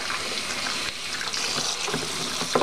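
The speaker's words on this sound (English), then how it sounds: "now I'm gonna fill this up just enough so that the bodies are covered" Tap water gushing steadily into a tub to cover cloth doll bodies for washing with laundry detergent, a close, continuous splashing fill with no talk.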